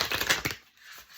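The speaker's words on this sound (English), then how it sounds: "I have to like put them in half and shuffle them like halfsies" Oracle cards are shuffled by hand in halves for a daily reading, with quick close riffling flutters for about half a second, then near silence.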